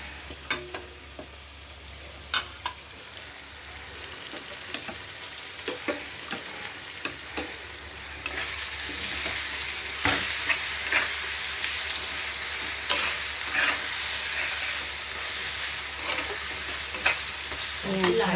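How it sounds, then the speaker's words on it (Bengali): Onions frying in a pan, a steady sizzle that grows louder and denser partway through, punctuated by repeated sharp scrapes and taps of stirring. "পেঁয়াজ ভেজে নিয়েছি"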